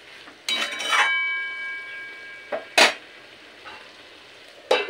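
Spiced fig (dumur) curry cooking in a pan, with a loud burst of sizzling followed by a few sharp metallic clinks and scrapes of a spoon or lid against the pan.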